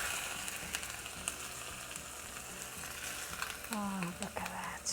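Hot cumin tadka poured over cooked lentils, a dense, steady crackling sizzle throughout with a sharper hiss rising near the end as the oil hits.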